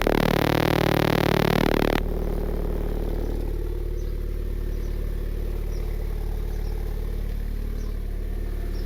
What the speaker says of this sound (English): you could definitely hear it by how the exhaust is resonating